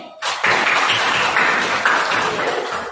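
Classroom applause from a group of students starts abruptly and holds as a dense, steady patter of clapping for a few seconds, fading slightly at the end.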